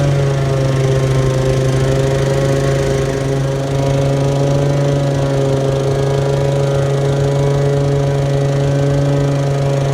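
A lawn mower runs steadily at close range, cutting grass short with its clippings being bagged while the lawn is prepared for slit-seed overseeding; a loud, constant engine drone holds for the whole stretch with no talking.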